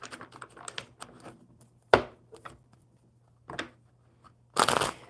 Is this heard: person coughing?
no